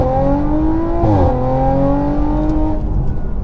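A 504 bhp Audi RS5 launches hard in dynamic mode with traction control in sport, its engine note climbing loudly, dropping sharply at a gear change, then rising again before easing off.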